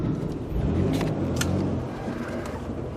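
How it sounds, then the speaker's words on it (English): A van with failing power steering pushes into a snowbank in winter, its engine droning and rumbling steadily throughout, close and loud, with a brief rise in revs and faint clinks near the start. "Let's just ram it into the snowbank."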